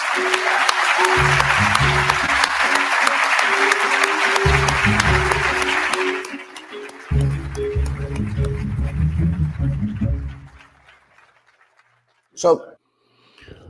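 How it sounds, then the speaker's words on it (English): An audience applauds Evergreen College's equity council. Dense clapping fills the first six seconds, then thins and fades under ongoing talk, with a brief louder burst of noise near the end. "Please let's all give them the right applause."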